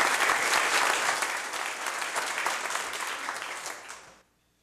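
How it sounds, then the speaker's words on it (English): Audience at a city council meeting gives a loud, dense round of applause that fades slightly, then cuts off abruptly near the end. "One more round of applause for Nathan."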